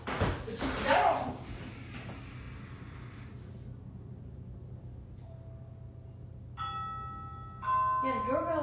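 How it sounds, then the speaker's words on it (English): A doorbell tested from a step stool rings with a few bright electronic tones near the end, following a heavy thump at the start and some quiet rustling. "Go ring the doorbell."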